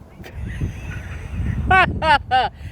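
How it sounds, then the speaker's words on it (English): Geese honk beside a pond outdoors, three loud nasal calls close together near the end after a stretch of wind buffeting and low background rumble. "And you got the geese over there."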